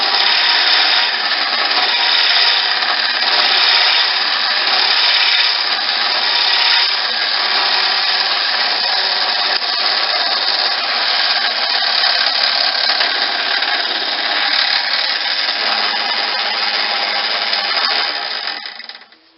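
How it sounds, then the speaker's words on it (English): A power drill whines at a steady, loud pitch as the bit grinds through material, running continuously before cutting off at the end. "I'm able to turn it on and cut the hole."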